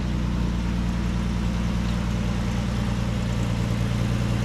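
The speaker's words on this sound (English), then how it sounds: "This is the first time the truck's been running in probably 5 months, so I want to let it run." A 1952 Dodge B3B antique truck engine idles steadily, a loud, even low rumble with a constant throbbing hum and no revving, running for the first time in months.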